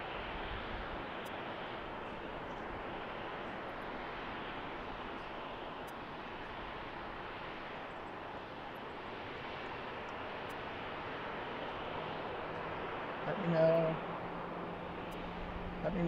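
An airliner taxiing to the terminal at BWI airport gives a faint, steady broadband engine rumble and hiss that holds throughout, with a brief swell near the end.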